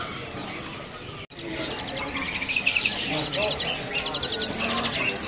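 Caged terucuk birds from East Java chirp at a bird market, rapid bright twittering calls repeated close by, growing busier after a brief sharp knock, over a murmur of background chatter.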